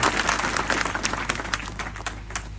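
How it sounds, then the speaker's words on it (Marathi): An audience at a kirtan at Dharmaveer Gad applauds steadily, a dense wash of overlapping hand claps with scattered sharper claps throughout, fairly loud and close. "जोरदार टाळ्या झाल्या पाहिजे."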